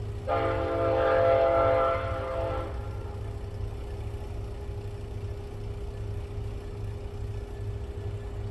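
A Norfolk Southern freight train heard from an overpass at a distance, its horn sounding a loud sustained blast for about two seconds, then a steady low rumble of the passing train continuing alone.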